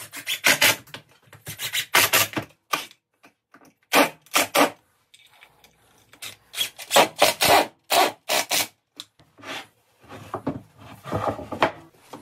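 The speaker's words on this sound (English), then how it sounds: "Here I'm running the shank of a screwdriver over the sharp edge of the miter." The steel shank of a screwdriver is rubbed along the sharp taped edge of a folding maple miter, giving repeated loud rasping strokes in uneven bursts with brief pauses.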